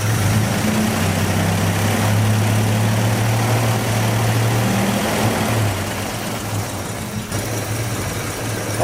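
A Jeepster Commando engine idles just after starting, a loud, steady low rumble close by that runs unbroken for several seconds and eases slightly toward the end, with no talking.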